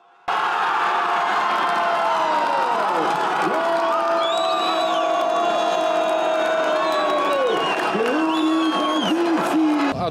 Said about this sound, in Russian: Первый гол нашей сборной и победные крики над Георгиевской.